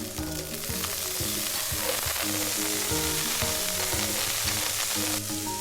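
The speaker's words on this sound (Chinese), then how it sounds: "虾仁炒熟" Shrimp and green peas stir-frying in a wok, a continuous close sizzle with a faint steady tone underneath, no voices.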